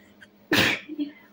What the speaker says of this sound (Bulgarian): В момент само ще кихна.